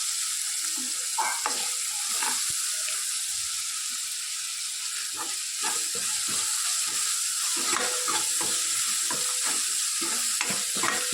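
Pav bhaji masala with salt and green chilli sizzles in a hot pan while a spoon scrapes and stirs it, producing a constant crackling fry punctuated by irregular scraping strokes, close and loud with no talking.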